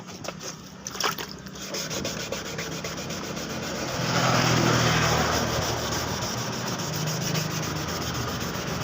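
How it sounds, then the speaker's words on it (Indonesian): A motorbike body panel being sanded by hand with 1000 grit sandpaper makes a steady, close rubbing scrape that grows louder and more continuous partway through, with no talking. "kurang lebihnya penggosokannya seperti ini sampai benar-benar halus"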